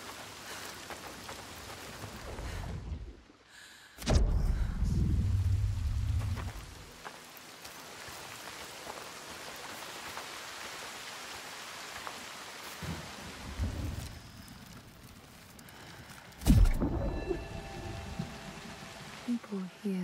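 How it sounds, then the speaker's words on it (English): Steady rain with rolling thunder in the stormy world of Hellblade 2, downpour hissing throughout while deep thunder rumbles swell at several points, loud and close; a voice speaks over parts of it. "The constant storm."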